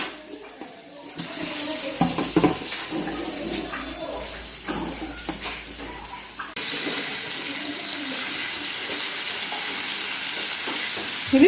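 Fish frying in a pan on low heat after being turned, a steady close sizzle and crackle with clinks and scraping of handling throughout.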